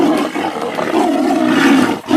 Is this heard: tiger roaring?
yes